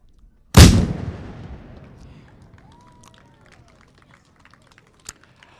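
A single ceremonial cannon booms loudly at a Fourth of July ceremony, a sharp blast followed by a long rolling echo off nearby mill buildings that fades slowly, with faint crowd sounds afterward.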